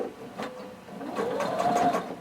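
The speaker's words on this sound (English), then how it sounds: "we're going to sew close to the fold of the fabric" A sewing machine stitching close to a fabric fold with a regular-length stitch, a soft, brief whirring run that rises slightly in pitch toward the end, heard alone at moderate distance.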